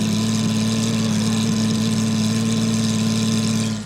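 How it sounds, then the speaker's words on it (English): A GT race car engine idling in the Le Mans pit lane, a loud, steady low rumble held evenly throughout without rising or falling. "I won't ask you to identify a car idling."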